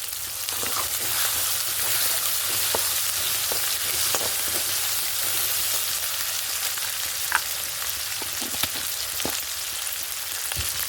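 Ghugni fries in a pan with sugar, turmeric and spices as it caramelises, a dense, constant close sizzle with scattered little pops and occasional stirring clicks running throughout, no voices.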